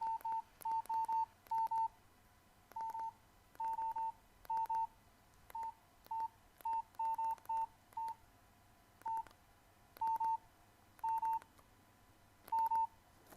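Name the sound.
keypad tones while texting on a Nokia C2-01 phone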